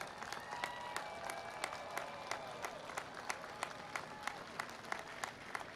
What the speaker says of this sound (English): Mothers and fathers, please stand and let us applaud you.